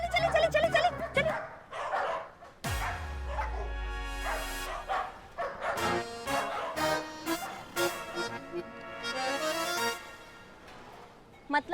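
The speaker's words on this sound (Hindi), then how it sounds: "हाँ, कुत्ता कुत्ता कुत्ता कुत्ता कुत्ता" A dog in a Hindi TV comedy episode barks and yips in loud, repeated bursts, alternating with lively speech throughout.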